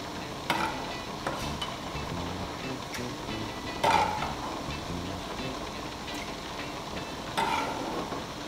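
Salt cod (morue) sauce frying over a fire, with a steady sizzling hiss and a few louder stirring scrapes of the pot spread through it, close by.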